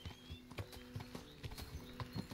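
Horse hooves clip-clop on the ground in the medieval video game Kingdom Come: Deliverance, a steady, even trot of soft thuds at moderate distance, with a faint whinny, a background hum and no talking.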